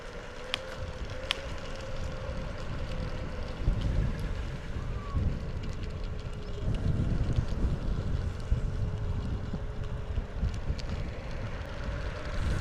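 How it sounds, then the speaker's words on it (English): Strong wind buffets the microphone in a constant low rumble that swells and eases, with faint clicks and rattles outdoors, heard while riding an e-scooter. "definitely super windy now and at that time as well"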